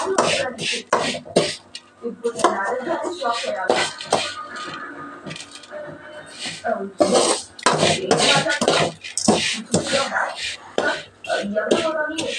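Poha being moved into a serving bowl, with repeated clinks and scrapes of a metal spoon against dishes in quick irregular bursts, close and clear.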